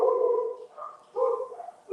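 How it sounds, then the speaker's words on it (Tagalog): A dog barks nearby in a few strong, drawn-out barks with short gaps between them, clear and alone without talk. "may asong kumakahol doon."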